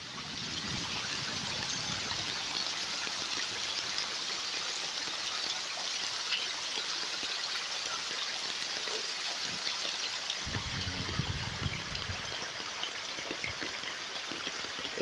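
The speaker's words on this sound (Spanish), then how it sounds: "La avenida principal de Villa de los Caballeros parece un río." Floodwater rushes down the main avenue of Villa de los Caballeros in Girón during heavy rain, a steady dense hiss of falling rain and flowing water with low rumbles near the start and later, no voices.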